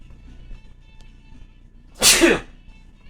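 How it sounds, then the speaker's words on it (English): One loud, sharp sneeze bursts out close by after a stretch of quiet room tone, then quickly trails off. "And I have a sneeze coming."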